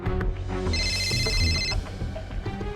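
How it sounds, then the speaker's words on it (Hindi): A telephone rings in a TV drama scene, a bright repeating electronic trill standing out for a couple of seconds over a dense layer of background music. "अरे अभी तो फोन उठा ले।"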